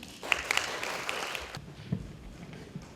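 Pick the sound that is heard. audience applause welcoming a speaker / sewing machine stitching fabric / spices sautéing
audience applause welcoming a speaker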